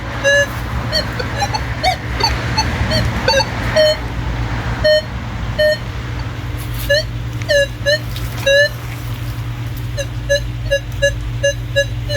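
A Minelab Manticore metal detector beeping in a field, short repeated tones in bursts of varying pitch and spacing, clear and close over a steady low background hum.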